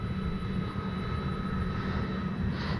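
An E-flite Carbon Z T-28 RC model warbird flies overhead with its electric motor giving a steady, continuous whine and broadband rush, fairly loud and unbroken, with no voices.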